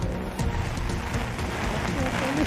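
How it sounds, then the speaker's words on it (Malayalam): Heavy rain falls in Kozhikode, Kerala, on a cold, windy morning, making a dense, steady hiss that fills the whole stretch at fairly close range. "നല്ല മഴയാണ്, മഴയ്ക്കൊപ്പം നല്ല തണുപ്പുമുണ്ട് എന്നുള്ളതാണ്. കാറ്റടിക്കുന്നുണ്ട്."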